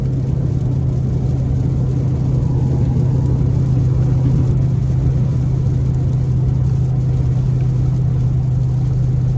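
A 2024 GMC Hummer EV SUV Edition 1, weighing nearly 10,000 pounds, heard from inside the cabin while accelerating. A steady low electric-motor hum and a loud road-and-wind rumble hold constant throughout, with no talking.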